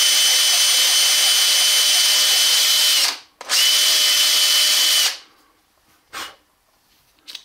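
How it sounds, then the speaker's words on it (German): Power drill spinning a crossbow bolt tip against a file to strip off old glue, a loud steady whine that cuts out briefly, resumes, then stops, followed by a couple of small clicks. "Jetzt nimmt man die Spitze, spannt sie in die Bohrmaschine ein, dann nimmt man eine Feile und dann entfernt man den alten Kleber."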